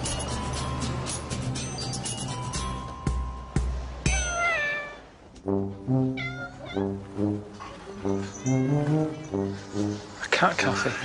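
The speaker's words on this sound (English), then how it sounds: "A cat cafe. You pay to come and pet cats." Cats meow repeatedly in a cat cafe, a series of rising and falling mews in the second half, preceded by scattered clanks and a ringing tone, fairly close and clear.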